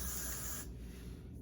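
Got2b hairspray is sprayed onto wig glue in one steady, close hiss that cuts off partway through, leaving quiet room tone.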